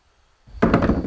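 An outboard motor fires after a short quiet pause and catches at once, settling into loud, close, pulsing sputters.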